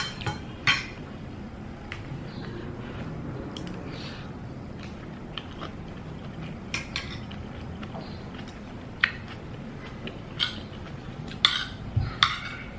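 Dishes and cutlery clink now and then during a meal of rice with sardines cooked with pechay, with scattered sharp taps and chinks over a soft, steady room background.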